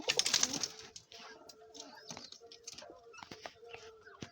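Pigeons in a home loft feeding, with soft cooing and scattered light pecking and shuffling; close by, quiet, no talk.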